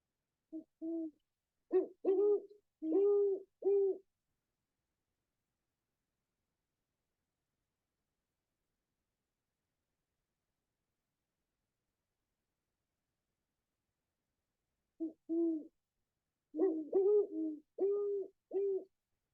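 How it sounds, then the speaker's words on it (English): A male and female great horned owl duet in winter nesting season, two clear bursts of deep rhythmic hoots a few seconds long, separated by a long silent gap, moderately near and alone. "What you're listening to is a duet between a male and a female great horned owl."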